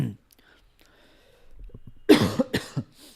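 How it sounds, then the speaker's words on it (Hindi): A person coughs several times in quick succession. The coughs are sharp and close, following a quiet stretch with faint breathy sounds. "आई माइट कफ, क्योंकि मुझे थोड़ा खांसी हुआ है"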